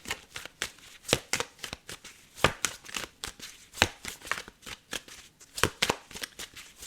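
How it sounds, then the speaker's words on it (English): A tarot card deck is shuffled continuously by hand, producing a steady run of crisp, close papery riffles and snaps in an uneven rhythm, with no talking over it. "I've been shuffling this the whole time"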